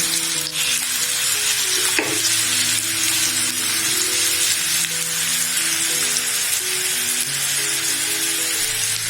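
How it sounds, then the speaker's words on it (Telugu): Thinly sliced onions, about 75 grams, fry in hot oil for chicken keema samosa filling: a loud, steady close sizzle runs throughout, with a couple of sharp utensil knocks and scrapes partway in. "ఆయిల్ వేడైన తర్వాత 75 గ్రాములు పెట్టాను కదా ఆనియన్, దాన్ని వేసేసుకోవాలి."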